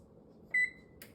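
A kitchen oven's control panel gives a single short, clear electronic beep while being set to preheat to 350 for banana bread, followed by a faint click in an otherwise quiet room.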